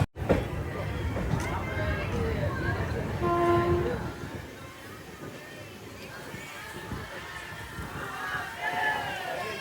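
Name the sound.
Amrit Bharat Express train departing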